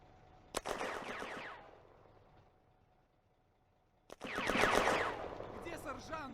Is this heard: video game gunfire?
yes